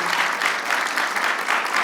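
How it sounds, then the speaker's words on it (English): Audience applause at a gathering, a steady, dense roar of many hands clapping throughout, loud and close with no pause. "I think everybody needs to give a huge applause to Aya and her team."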